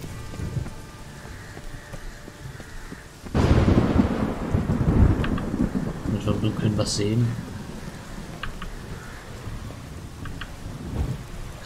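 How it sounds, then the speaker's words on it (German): Thunderstorm with rain in The Witcher 3: a sudden loud thunderclap breaks in, then a long rumbling roll over a steady hiss of rainfall, with someone talking over the storm. "Gewittert ganz schön."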